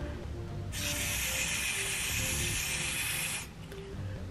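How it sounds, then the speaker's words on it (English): A single sustained hiss of hair spray lasts about three seconds, close and fairly loud, then cuts off. "i'm just gonna like spray this part down"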